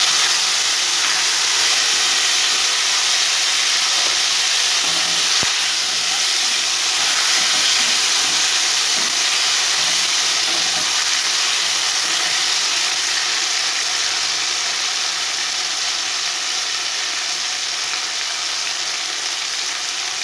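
Tomatoes hitting hot spiced oil in a pan for a prawn and cabbage ghonto, giving a loud, steady, hissing sizzle close by that holds for the whole stretch without talk.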